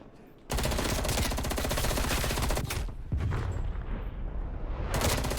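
A FAMAS rifle fires in Black Ops Cold War, loud rapid bursts of gunfire with a short pause between strings of shots.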